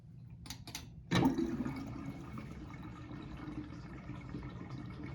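Water running from a tap into a bathroom sink to check a newly installed pop-up drain for leaks, a sudden gush after a few faint clicks, then a steady close flow draining away.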